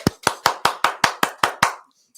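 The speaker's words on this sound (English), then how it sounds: "Let's hear the applause out there." A small studio audience claps in a quick, even run of about nine sharp claps, close and loud, with no talk over them.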